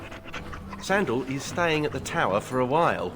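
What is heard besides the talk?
dog panting in Dragon Age: Awakening video game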